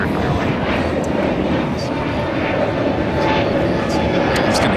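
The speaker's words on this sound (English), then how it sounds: "This is Air Premia Flight 102 taking off to Seoul on a 787-9 Dreamliner" An Air Premia Boeing 787-9 Dreamliner on its takeoff roll at LAX, heard as a loud, continuous broadband jet engine roar that holds steady throughout, with a voice talking over it.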